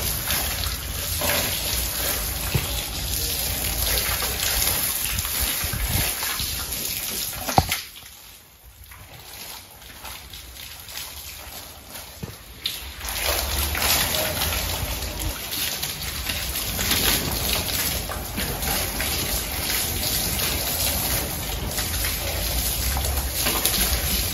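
Water from a pipe sprays over a cow during bathing on a farm, a loud continuous rushing splatter that drops away briefly in the middle before resuming steadily.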